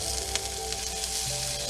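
Pan-seared scallops sizzle in brown butter in a pan, a dense, even frying hiss that holds close and loud for the whole stretch, with a few faint clicks on top.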